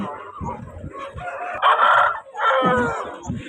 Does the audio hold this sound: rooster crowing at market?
yes